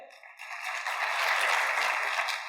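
A workshop group voting by applause, a soft burst of clapping that swells after a brief pause and holds steadily, fairly faint and without talk.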